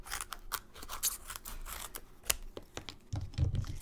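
Scissors make quick, crisp snipping cuts through a foam adhesive sheet on a card-making desk, a close run of short cuts followed by a duller handling thump near the end, with no speech.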